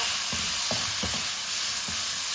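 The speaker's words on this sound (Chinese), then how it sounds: "下入番茄块，继续给它翻炒，把番茄炒出蓉" Tomato chunks stir-fry in a wok with star anise, ginger, garlic and dried chili, giving a steady close hiss and sizzle broken by several soft scraping stirs of the spatula.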